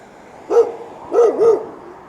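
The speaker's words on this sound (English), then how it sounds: "And then these two beautiful dogs here." Dogs bark three times outdoors, one single bark followed by a quick double bark, loud and close, with no speech.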